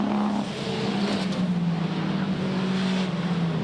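A super sedan race car at Yandina Speedway roars steadily on the far side of the dirt oval, its engine note rising and falling as it powers through a lap, loud and continuous with no other sounds.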